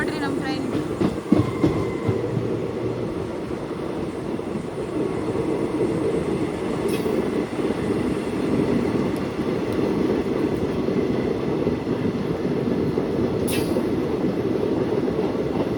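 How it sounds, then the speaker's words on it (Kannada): A Ballari to Davanagere DEMU train runs through a town, heard from on board as a loud, continuous rumble with clattering wheels and rail noise, steady throughout with a couple of brief sharp squeaks. "ಈಗ ಊರಿನ ಮಧ್ಯದಲ್ಲಿ ಯಾವ ರೀತಿ ಹೋಗ್ತಿದೆ ನೋಡ್ರಿ ನಮ್ಮ ಟ್ರೈನ್"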